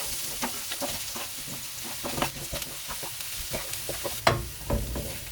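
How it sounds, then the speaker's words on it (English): Onions fry in a pan for a macaroni casserole, a quiet sizzle broken by stirring clatters and scrapes, close by with no talking. "frying the onions."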